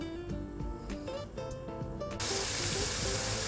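Chili paste frying in oil until the oil rises, a crackling sizzle that starts patchy with utensil knocks and then bursts into a loud, dense, continuous hiss up close.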